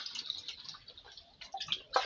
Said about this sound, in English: now I'm adding my water